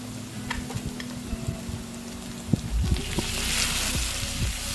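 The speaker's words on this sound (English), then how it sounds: "Let's fry these onions for a minute." Five small chopped onions frying in a hot wok for Malaysian village-style fried rice, a low steady sizzle with scattered spatula taps and scrapes, rising toward a brighter hiss near the end, close up with no talk.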